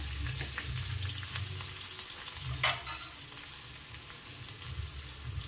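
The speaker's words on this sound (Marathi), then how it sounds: "कांदा टाकू परतून घ्यायचं" Finely chopped small onion sautéing in oil in a pan for a mixed cluster bean and potato dish, a steady close sizzle with stirring scrapes and a brief louder burst midway, no talking.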